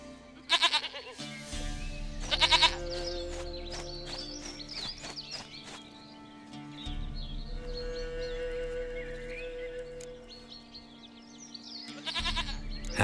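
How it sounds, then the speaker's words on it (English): A goat in The Witcher 3 bleats loudly in short bursts, twice early and once near the end, over a soft ambient game soundtrack with chirping birds. "Goat of mine, dearest, sweetest goat."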